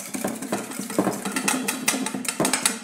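Banana bread batter stirred in a bowl while melted butter is added, close, quick clinking and scraping of a utensil against the bowl in an uneven rhythm, no voices.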